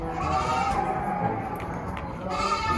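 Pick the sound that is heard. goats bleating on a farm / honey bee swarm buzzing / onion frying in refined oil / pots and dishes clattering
goats bleating on a farm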